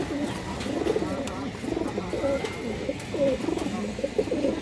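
Healthy pigeons at a seller's flock coo softly in repeated low, rolling phrases, several birds overlapping close by with a faint murmur of background noise throughout.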